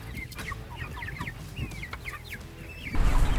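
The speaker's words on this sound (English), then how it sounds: "his gourmet chickens aren't as aggressive with the feed" Chickens cluck and chirp in a short series of calls near a feed tractor in a backyard flock, with a louder rustle of birds moving at the end.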